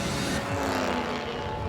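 Race cars at the Indy 500 in Indianapolis roar past in a loud, continuous engine wash with a brief pitch sweep as one car passes, amid steady crowd and track noise.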